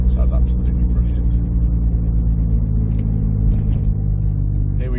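A 1996 Vauxhall Astra F with a modified exhaust drones along on the road, a loud, steady low rumble heard from inside the car while a person talks over it.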